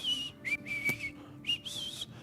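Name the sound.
whistling, imitating Jesus walking on water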